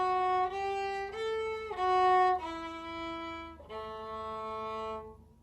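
Viola, cello and bass play measures 3-4 of Shepherd's Hey together, with bowed sustained notes changing pitch every half second or so over a steady low open-A drone, then one longer held chord to close, clear and close with no talking.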